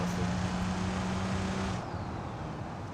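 Truck engine in BeamNG hums with a steady low drone and broadband roadway rumble, close and fairly loud, easing off slightly after about two seconds.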